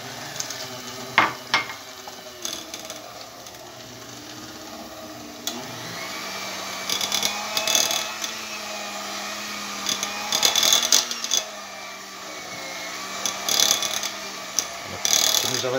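A 1970s Walita Candy portable hand mixer runs at low speed, mashing mandioquinha with milk and butter, giving a wavering motor whine and intermittent clattering bursts. A voice speaks at times.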